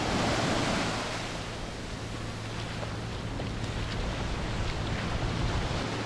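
Sea waves roll onto a beach in Cancún, Mexico, a constant broad surf roar mixed with wind buffeting the microphone, with no talking.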